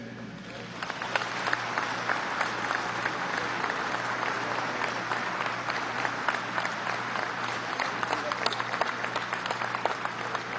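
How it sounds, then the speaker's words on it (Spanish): Loud, sustained applause from military academy cadets fills a large gathering at a Venezuelan naval military academy, a dense continuous wash of clapping with a steady low hum beneath it. "Fuertes aplausos de parte de los cadetes."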